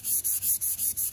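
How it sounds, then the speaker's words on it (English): Rapid, rhythmic rubbing of sandpaper by hand across car paint, sanding sideways, about six quick back-and-forth strokes with brief gaps between them. "How you want to sand it is sideways."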